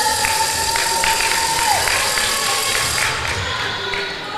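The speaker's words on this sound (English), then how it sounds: "still some cheers for that one" Crowd noise at a netball match between UAE and Israel, with a steady wash of cheering and scattered claps and thuds from the arena throughout, under a distant whistle.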